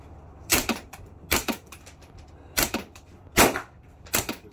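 Five sharp, loud handgun shots from a large Dirty Harry-style revolver crack out at uneven intervals outdoors at a target range, each a short snapping burst with quiet gaps between.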